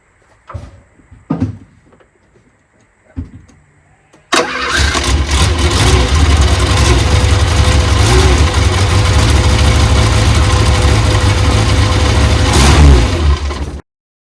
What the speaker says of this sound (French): un essai de redémarrage